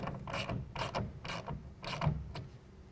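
A ratchet tightens a clamp holding down an UnderCover Ultra Flex tonneau cover on a 2017 Dodge Ram bed, giving close, evenly spaced clicking strokes in a steady rhythm with no voices.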